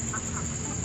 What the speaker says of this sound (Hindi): ये लाखा किस्म का मुर्गा है